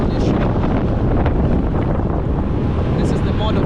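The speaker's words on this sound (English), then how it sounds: "I'm on a motorbike headed to my destination." A motorbike ride as a passenger in Kakamega, with heavy, steady wind buffeting the microphone throughout and a constant low roar of rushing air and engine underneath.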